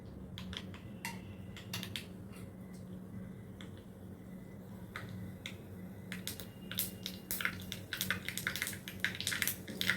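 Mustard seeds spluttering in hot oil for tempering a mixed vegetable curry, with irregular sharp pops and crackles that grow denser and louder toward the end over a low stove hum.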